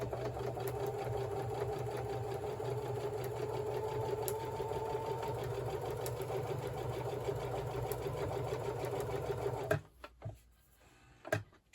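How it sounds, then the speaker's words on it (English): A sewing machine stitches vinyl onto a stretchy hoodie to make an armoured garment, running in a steady close mechanical hum with rapid needle chatter, then stopping abruptly near the end, leaving a few faint clunks. "check once in a while to make sure that you're only sewing to the one side of the hoodie"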